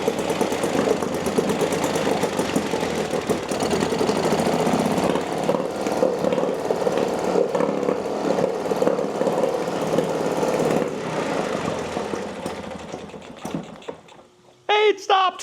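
A small outboard boat motor runs after a pull start, a loud close chugging drone with a rapid knocking beat that holds steady, then sputters and dies near the end, followed by brief talk.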